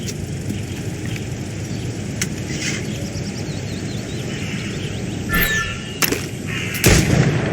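Gunfire at targets during a shooting exercise in the PC game Assassin's Creed Rogue, with sharp shot bursts near the end over a steady dense game ambience and rumbling background.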